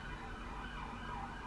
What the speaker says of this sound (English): I'm gonna wait for all of the sirens to go past